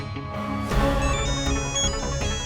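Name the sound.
phone ringtone of an incoming video call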